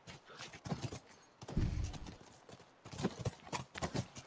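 Horse hooves clip-clop in The Last of Us video game, uneven bursts of several hoof strikes separated by short pauses, moderately close and fairly quiet, with no talking over them.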